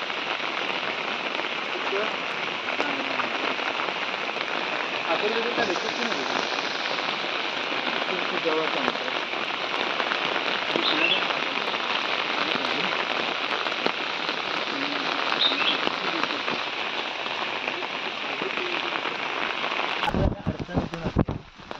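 Steady heavy rain drums on surfaces, a dense continuous hiss with faint voices underneath, ending in a few sharp knocks.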